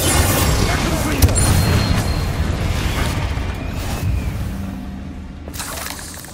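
Bombarda blasting spell explosions in the Hogwarts Legacy video game, heavy booming bursts layered over a dense, rumbling battle din that fades slightly toward the end.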